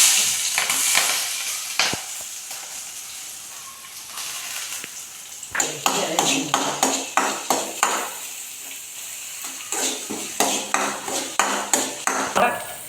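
Mustard seeds, garlic, onion and green chili sizzle hard in hot oil, a steady loud crackle broken halfway through by a run of sharp rhythmic scraping stirs against the pan.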